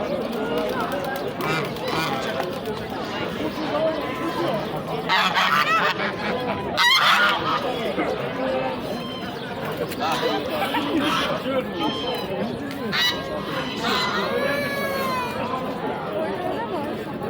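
Many geese honk in a noisy, busy crowd at a poultry market, with people talking throughout and occasional loud bursts of cackling close by.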